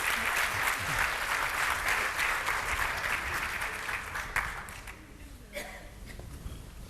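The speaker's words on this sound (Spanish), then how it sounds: "Ahora pueden aplaudir a los demás" A crowd applauds steadily with dense clapping, then the applause thins and fades toward the end.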